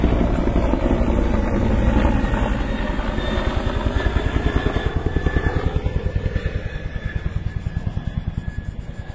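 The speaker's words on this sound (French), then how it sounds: "Il y a au moins 4 hélicos là." Several firefighting helicopters fly over a wildfire, their rotors pounding in a steady, rapid beat that stays loud and close throughout, with a continuous engine roar underneath.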